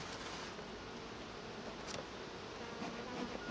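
Honeybees in a hive give a dense, continuous buzzing drone, close and steady with slight swells, and no one speaks.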